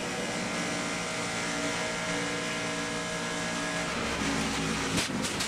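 A 2009 Nationwide Series stock car at Daytona roars at speed with a failing right front tire, a loud continuous engine drone that shifts and breaks up slightly near the end.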